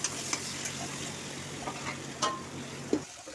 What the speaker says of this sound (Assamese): এতিয়া ইয়াত ব্ৰইলাৰ মাংসখিনি দি দিছোঁ আৰু অলপ লৰাই সিজিবৰ বাবে ঢাকন মাৰি ৰাখি দিম